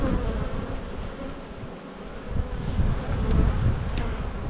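Honey bees hum in a dense, continuous buzz from an opened hive frame, close and steady with slight swells and faint rustling, no talking.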